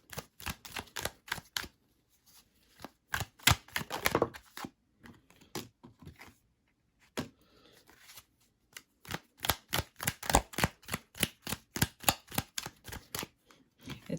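A thick Light Seer's Tarot card deck being shuffled, rapid bursts of crisp riffling and slapping cards broken by short pauses, close and fairly quiet, with no talking.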